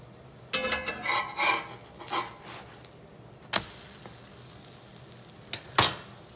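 A whole wheat Indian pancake, topped with chopped cashews and raisins, sizzles and crackles in a hot pan after flipping, with several sharp bursts of spatula and pan clatter breaking through the steady frying hiss.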